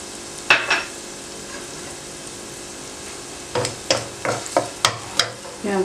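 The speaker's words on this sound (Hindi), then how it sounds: "प्याज को आप फ्राई करें।" Onions frying in a spoonful of oil in a wok give a soft background sizzle, then a quick run of sharp spoon scrapes and taps against the metal, close and clear, with nobody talking.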